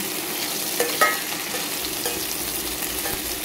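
Chopped onions sizzle and fry in hot oil in a pan for pork steak, a steady close crackle with a couple of brief stirring clinks near the start, no voices.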